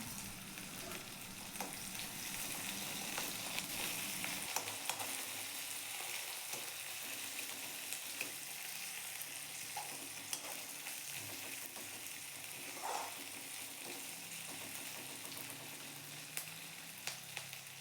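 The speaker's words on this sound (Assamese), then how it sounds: "এতিয়া এইখিনি গল্ডেন ব্ৰাউন হোৱালৈকে ধুনীয়াকৈ ভাজি ল'ম।" Chopped raw onion and green chilli frying toward golden brown, a soft, continuous, even sizzle with occasional light stirring clicks, fairly quiet and close, with no talk.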